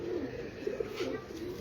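A pigeon coos softly nearby, a few low, rolling coos in quick succession over a quiet background with no talking.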